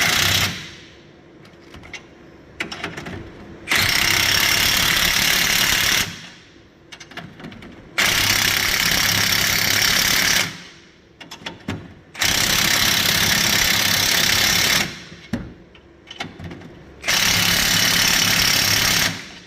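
An impact wrench hammers U-bolts tight in four long bursts of rapid rattling, each lasting a few seconds and separated by short quieter pauses, loud and close.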